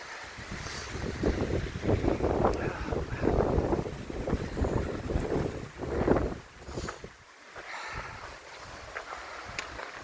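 Strong New Mexico wind buffets the microphone in gusty, roaring waves, rising and falling for the whole stretch with no voices.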